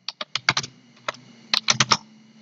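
Crisp keystrokes sound on a computer keyboard as a line of Python code is typed, coming in two quick clusters of taps with a short pause between them, close and clear with no talking.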